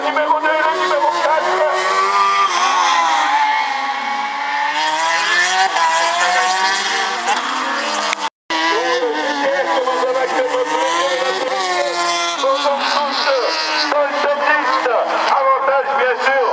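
A GTR race car launches on its hillclimb slalom run in a loud, sustained engine roar. The revs rise and fall through the gears, with one abrupt momentary cutout, while a commentator talks over it throughout.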